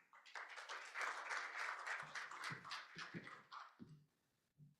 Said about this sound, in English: A round of applause for Rob.